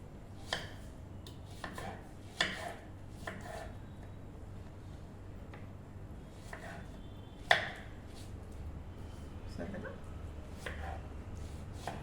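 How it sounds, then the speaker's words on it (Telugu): Knife chopping peeled muskmelon (karbuja) into pieces on a board: several separate, sharp knocks spaced irregularly over a low steady background hum, fairly close and moderately loud. "ఇప్పుడు మనం దీన్ని ముక్కలు కోసేసుకుందాం"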